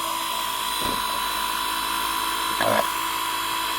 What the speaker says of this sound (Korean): 여기다 한번 구멍 좀 뚫어볼까요?